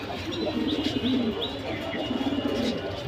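Pigeons coo in low, repeated phrases nearby, with a few softer chirps against a faint background hum.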